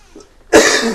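A single sharp cough bursts out after a moment of near-silence, loud and close, trailing into a rough exhale.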